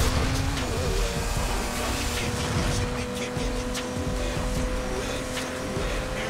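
Race car engines drone and rev steadily in the Midnight Club Los Angeles street-racing game, a continuous loud roar with tonal whine that holds for the whole stretch, with a voice talking over it at times.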